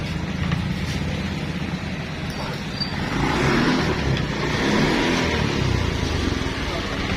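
A Honda Beat scooter engine runs and revs with a steady rough drone that swells louder midway, close by, with a voice speaking over it.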